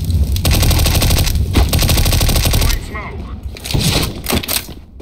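Sustained automatic gunfire on the Dust 2 map in Counter-Strike rattles loud and close for nearly three seconds. Scattered single shots and cracks follow with a brief voice mixed in.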